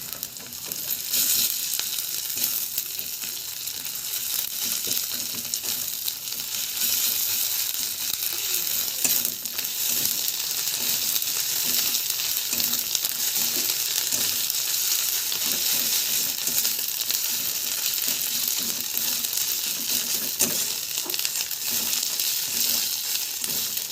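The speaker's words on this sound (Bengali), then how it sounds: "রসুনটা আমাদের ভাজা হয়ে গেছে। এবার এর মধ্যে দিয়ে দেবো আদা বাটা।" Ginger paste added to frying garlic in hot oil in a pan for a Bengali chicken curry: a dense, continuous sizzle with crackling spatter and occasional stirring scrapes, close and loud, no talk.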